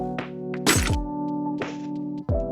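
A flash grenade in the mobile game Free Fire is thrown, giving a few sharp cracks and thunks over a steady electronic game hum, with one bright burst standing out.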